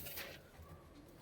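Pedigree Punjabi Malwai pigeons coo softly in a brief, faint burst, heard alone at close range.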